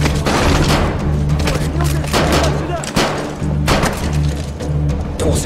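Frag grenade blasts in Call of Duty MW3, heavy booms and crackling debris over dense battle noise, several loud hits across a few seconds.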